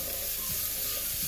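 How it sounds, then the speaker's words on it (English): Chopped onions and garlic sauteing in a pan, a close, even sizzle with faint stirring scrapes throughout. "So now we'll saute the onions."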